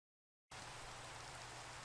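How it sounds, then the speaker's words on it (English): Steady hiss of acid rain falling in modded Minecraft, starting abruptly and continuing as an even, dense wash of rain noise with no voices. "This chunk has acid rain now."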